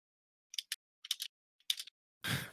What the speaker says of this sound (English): I'm typing something out.